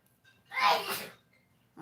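A single loud, close sneeze bursts out in one sharp breathy blast, then fades into quiet before a faint sound begins at the end.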